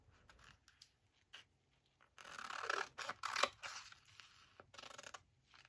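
Scissors snip through paper for a planner journal in a quiet indoor setting, with a few short isolated snips followed by a denser run of close cutting bursts, then scattered lighter snips.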